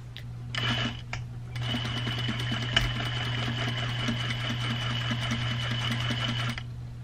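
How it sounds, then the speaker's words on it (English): A sewing machine edge-stitches around a backless top, running steadily for several seconds with a rapid even needle clatter after a couple of brief starts. "So I'm edge stitching all the way around"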